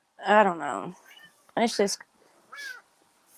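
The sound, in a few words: cat meowing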